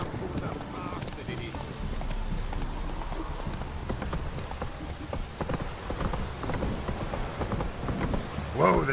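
Hooves of Roach, the horse in The Witcher 3, clip-clop at a rapid galloping rhythm, close and steady, over a rain and thunderstorm backdrop, with game voices speaking over it.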